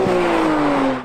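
A Porsche 992 GT3 engine roars at high revs, its pitch climbing steadily, close and loud for about a second.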